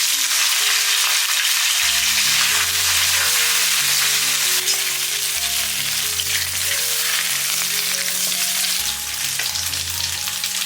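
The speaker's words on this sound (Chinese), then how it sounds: "接着我们在起锅热油，爆香姜片，牛角筋放进来翻炒" Beef tendon sizzles loudly with ginger slices in hot oil in a wok, a continuous close crackle and hiss with faint stirring bumps beneath, no voices.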